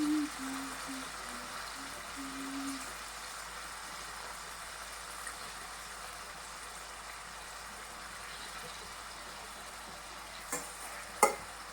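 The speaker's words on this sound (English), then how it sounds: "So I'm just directly frying without any salt or anything." Chicken pieces sizzle and crackle in hot oil in a pan, a steady close frying hiss with a soft tone early on and a couple of sharp clinks near the end.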